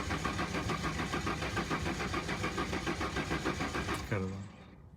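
A 2000 Jeep Cherokee engine cranks with a fast, rhythmic churning that runs for about four seconds, then catches and fires before the sound quickly drops away.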